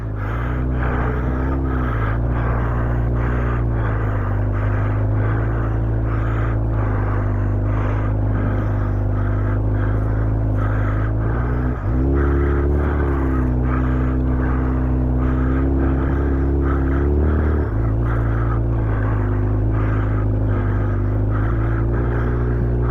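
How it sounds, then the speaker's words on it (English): A Honda CBR1000F motorcycle engine runs steadily nearby with a low, continuous drone that rises slightly under a little throttle, loud and unbroken for over twenty seconds, with no talking. "Throttle it up just a little bit."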